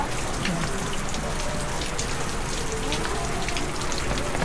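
Steady rain pattering on surfaces outdoors in Mandaluyong City after a fire, a dense continuous hiss of drops close by, with no clear speech.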